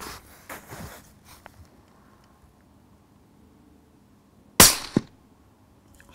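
Single suppressed 6.5 Creedmoor rifle shot through a Dead Air Nomad-LT silencer, a sharp brief crack followed by a short tail, preceded by faint handling noise in a quiet outdoor setting.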